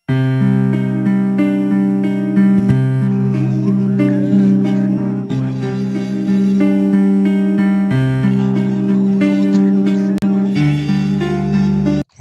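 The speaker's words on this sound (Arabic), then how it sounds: "وده صوت البيانو فقط" Sustained piano chords from a piano track separated out of a song play continuously and loudly, with a dense, slightly processed tone and no voice present.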